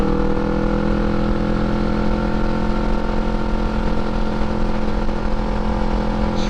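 A motorcycle engine drones steadily and loudly throughout, a constant low rumble with no voices over it.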